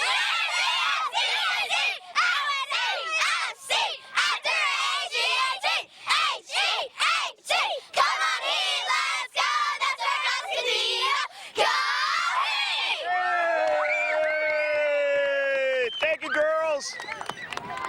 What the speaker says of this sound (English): Okay, go ahead and do your cheer now.